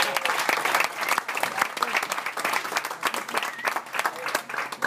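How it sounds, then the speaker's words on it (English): Dense audience applause fills a magic show aboard a cruise ship, steady crowd clapping throughout with faint voices mixed in. "Give a round of applause, Hector."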